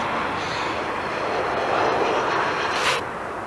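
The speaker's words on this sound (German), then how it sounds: "So, jetzt haben wir hier doch noch ein Flugzeug" An airplane passes high overhead above cloud cover near Munich, a broad steady roar that swells slightly and then fades, heard alone outdoors.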